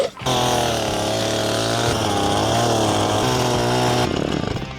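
A chainsaw runs at a loud, steady high rev, starting abruptly after a brief pause and holding a strained whine throughout.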